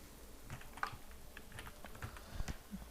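Quiet keyboard typing, a short run of soft irregular keystrokes close by as a network folder name is entered.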